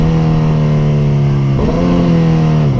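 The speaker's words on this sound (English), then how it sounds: "the sound of that quick shifter sounds good" A 2022 Suzuki Hayabusa motorcycle pulls hard up through its quick shifter, the engine note climbing loud and steady, then breaking briefly at each clean upshift.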